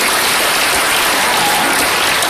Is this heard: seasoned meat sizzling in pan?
no